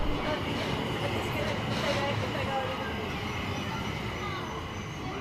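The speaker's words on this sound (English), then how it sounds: "Here comes the train." A Tokyo Ginza Line subway train rolls into an underground platform with a steady, loud rumble and faint wheel hiss that holds throughout, with no clear speech over it.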